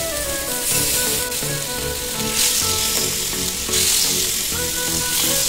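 Fish grills on a tawa over a medium flame, throwing off a loud, dense sizzle and crackle up close, swelling and easing in waves with no voices.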